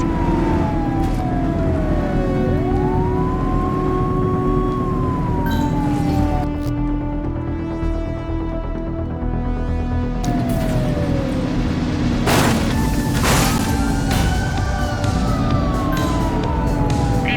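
Police sirens wail and sweep up and down through a street pursuit in the video game The Precinct, loud and continuous over rumbling traffic and engine noise, with overlapping siren tones throughout.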